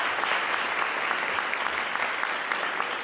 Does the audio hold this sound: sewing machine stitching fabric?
no